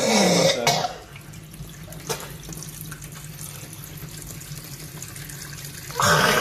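A few coughs and throat-clearing sounds after the cinnamon challenge, between stretches of running water, loud tap noise at the start and end, with a muffled background hum.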